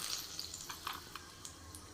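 Curry leaves dropped into hot oil in a biryani pan, a soft crackling sizzle with a few brief pops, close and fairly quiet, no voices.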